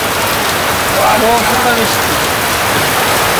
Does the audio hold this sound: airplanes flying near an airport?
no